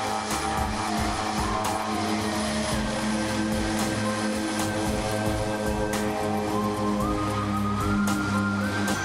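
A small passenger airplane at a mountain airport in Mugu, Nepal, produces a steady, loud engine and propeller drone with a rising whine, heard alone and continuously.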